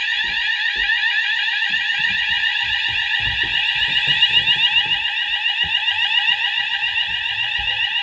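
Notifier/Hochiki ESP fire alarm sounder blaring during a system test, a loud continuous warbling electronic tone that runs the whole time, with faint background thumps and movement beneath it.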